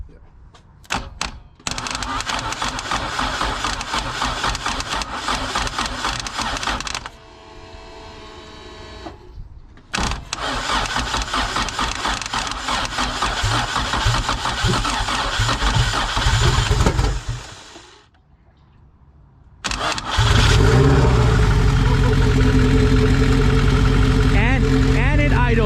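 Honda Civic EG hatchback engine, fitted for turbo, cranked by feeding power straight to the starter signal: loud grinding and whirring bursts, then the engine catches and settles into a steady, loud idle, close by.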